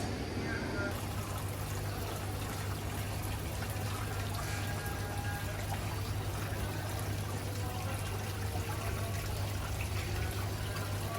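A water feature fountain at an indoor China market in Oman: a steady, continuous rush of splashing water, close and fairly loud, filling the whole stretch without pause, with a faint murmur of voices beneath it.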